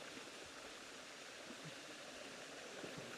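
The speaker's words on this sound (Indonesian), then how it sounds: "Wah, sepertinya di depan ada air terjun mini." A small mini waterfall spilling across a mountain trail on the way to Wae Rebo gives a steady, faint rush of falling water, even and unbroken, with no voices.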